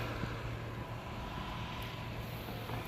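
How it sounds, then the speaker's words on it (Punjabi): Strong wind blowing outdoors around a farm house, a steady broad rush with a low rumbling hum throughout, continuous and fairly loud with no voices. "ਬਾਹਰ ਜਿਹੜੀ ਆ ਹਵਾ ਚੱਲ ਰਹੀ ਆ ਬਹੁਤ ਜ਼ਿਆਦਾ"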